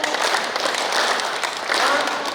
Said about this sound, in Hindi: सिर्फ 50 तालियां बजाएंगे आप।